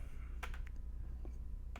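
A few quick keystrokes tap on a computer keyboard, brief and close, over a low steady hum.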